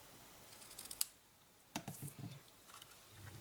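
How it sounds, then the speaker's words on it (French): Scissors snip through excess ribbon at an angle while finishing a small handmade gift box, a quiet close cut followed by a few soft rustling handling sounds. "nous avons plus qu'à couper le surplus de ruban en biseau pour pouvoir donner une jolie fermeture"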